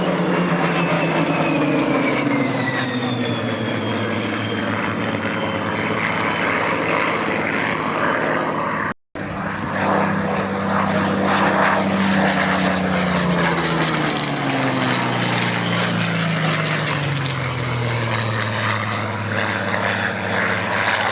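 A naval-variant Spitfire propeller fighter flies at an air show, its engine drone loud and steady for the whole stretch, with pitch sweeping and shifting as it passes and banks, broken only by a sudden momentary dropout partway through.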